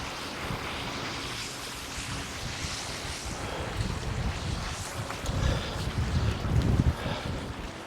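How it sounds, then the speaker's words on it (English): Heavy wind and rain on Orcas Island, a continuous roaring gusty rush with buffeting on the microphone that grows louder and rumbles in the second half, with no talking. "the wind is so heavy and it's been raining so heavy"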